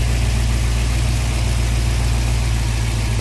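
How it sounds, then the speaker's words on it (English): A 2001 Toyota Sequoia with a 2UZ-FE V8 and straight-pipe exhaust idles steadily up close, making a constant deep rumble with no change in revs and no talking. "I just started the truck up and it runs fine"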